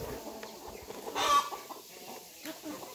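Two-and-a-half-month-old Hmong chickens cluck softly at a farm, with a brief, slightly louder call in the middle against steady background noise.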